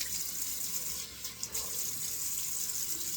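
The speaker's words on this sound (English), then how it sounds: "So I'm just switching over to cold water here." Cold water runs from a bathroom tap into a sink in a steady, soft hiss with a few faint splashes, heard alone at low level.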